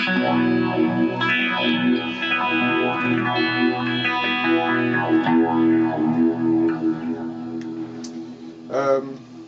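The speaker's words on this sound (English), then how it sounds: "Just realised I've got the flanger on as well." Electric guitar played through stacked echo, reverb and flanger effects, a continuous swirling, distorted wash of sustained notes and repeats filling the whole stretch, loud and close, ending on a brief louder strum.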